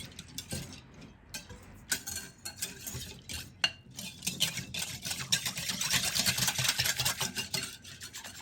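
Crockpot beef stroganoff is mixed into broth, with a utensil scraping and clinking against the pot in irregular strokes that grow into a steadier, louder stirring toward the end.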